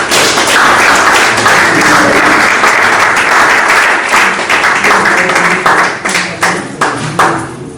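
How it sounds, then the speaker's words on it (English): An audience at a university mathematics department gathering applauds a professor, a loud, sustained wash of clapping from many hands that gradually thins toward the end. "I want us to give Prof a round of applause"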